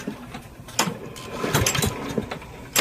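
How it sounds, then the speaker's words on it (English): A Briggs and Stratton 7HP Platinum series lawnmower engine that will not start is pull-cranked repeatedly during a compression test, giving several separate rough bursts of turning over with short gaps between pulls. "Go ahead and crank it about 5-6 times,"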